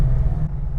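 Deep, loud rumble from the LT4 V8 of a 650 hp 1969 Camaro restomod, close by and steady, with a slight dip partway through.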